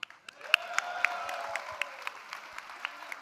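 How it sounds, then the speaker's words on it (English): A small audience claps for the winner at the Microsoft Excel World Championship 2025 finals. The applause is brief and scattered, with separate sharp claps heard over a quiet room. "another round of applause for a great community guy"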